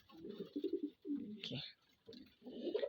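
Soft pigeon cooing in short bursts with pauses between, close by and fairly quiet, no talking.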